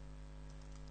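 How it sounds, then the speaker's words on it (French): Keystrokes on a computer keyboard as a command is typed into a Windows command prompt, soft clicks close by over a steady electrical hum, with no voices. "Il suffit de taper ipconfig/all."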